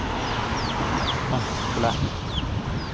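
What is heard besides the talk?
chicken clucking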